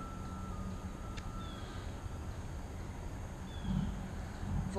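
A truck drones faintly out in the distance beyond the woods, a low continuous rumble under a thin steady beep, swelling slightly near the end.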